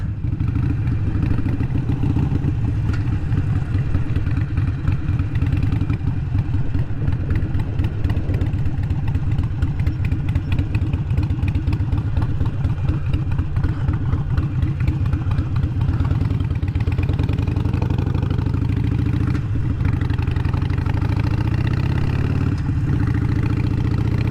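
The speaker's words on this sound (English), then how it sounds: "This bike came with the Vance and Hines short shot exhaust." A Harley-Davidson SuperLow with a Vance and Hines Short Shots exhaust idles loudly and close with a rapid, lumpy, throbbing exhaust pulse, steady throughout with slight changes in rhythm.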